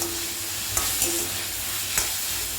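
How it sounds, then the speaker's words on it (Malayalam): Tomato and ginger sautéing in oil in a pan give a steady low sizzle, broken by a few soft stirring scrapes, with no one talking. "ഇഞ്ചിയും തക്കാളിയും കൂടെ ചേർത്ത് ഇതും കൂടെ നന്നായിട്ട് വളർന്നെന്ന് പറയട്ടെ നന്നായിട്ട് വഴറ്റിയെടുക്കണം"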